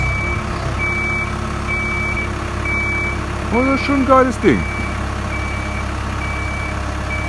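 A truck used for hauling a boat, a sailboat named Limelight, drives out near a beach on Tahuata in Polynesia: an idling engine under repeated reversing beeps, with someone speaking briefly over it.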